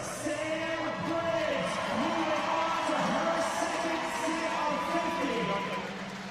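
A CrossFit competition crowd roars and cheers continuously for athlete Sam Briggs, a steady, broad wash of noise beneath a commentator talking throughout.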